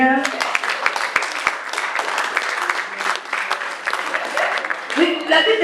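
A church congregation claps in praise of the Lord during a service, a dense, lively patter of hands mixed with loud voices speaking and calling out over it.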